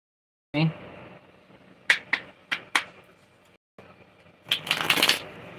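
Tarot cards are shuffled by hand in a quiet room, giving a soft riffle, then several sharp separate slaps and flicks, and a final louder burst of riffling near the end, all close and alone without talk.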